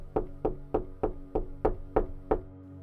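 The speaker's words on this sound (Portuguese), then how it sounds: "ela ouviu uma outra batida na porta" Eight evenly spaced knocks on a door, steady and fairly close, with nothing else heard in between.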